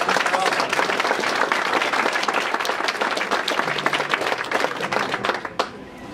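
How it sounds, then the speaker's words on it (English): An audience claps steadily and loudly for several seconds at a drag cabaret show, with the applause thinning out near the end. "Yeah, you clap for that."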